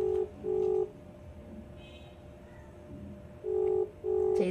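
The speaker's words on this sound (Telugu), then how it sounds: "కాల్ చేస్తున్నా." A phone call rings out on the line, with paired electronic ringback tones repeating steadily at the start and end, separated by a quiet gap.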